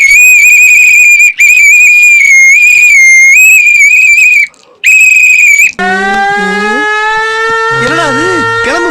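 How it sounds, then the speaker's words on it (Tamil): A whistle shrills loud and near in several long blasts broken by short gaps. Then a wavering, siren-like conch or horn tone takes over with multiple harmonics, and no one speaks. "எவனோ விசில் அடிக்கிறான்"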